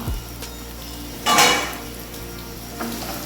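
A lid is lifted off a cooking pot of softening tomatoes for soya masala: one short, bright metallic clatter over a low background hum, then a faint second clink near the end.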